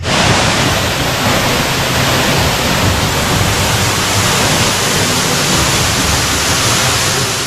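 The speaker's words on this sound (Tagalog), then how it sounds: "Isa rin ang Sulok Falls na may taas na 30 metro." Sulok Falls, a 30-metre waterfall near the Agno River, roars as a loud, dense, unbroken rush of falling water with no pauses and no talk.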